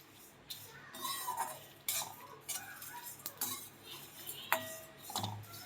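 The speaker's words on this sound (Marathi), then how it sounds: "त्याचा स्मेल सुटेपर्यंत आपल्याला हा मसाला भाजून घ्यायचा आहे." Dabeli masala being dry-roasted in a pan, with a spoon scraping and clinking against the metal in irregular bursts, close and fairly quiet, with no talking.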